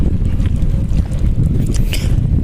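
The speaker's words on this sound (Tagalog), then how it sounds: "Mahangin siya." Steady wind buffets the microphone with a low, constant rumble on a walk near a beach, no voices present.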